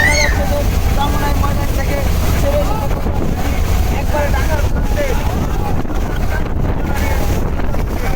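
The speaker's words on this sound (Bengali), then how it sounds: "বৃষ্টি শুরু হয়ে গেছে এবং পাশাপাশি প্রচন্ড বাতাসও কিন্তু বইছে" Strong wind roars across the microphone aboard a river launch caught in a storm, a loud constant buffeting rush with water noise underneath, while a voice speaks faintly in the background.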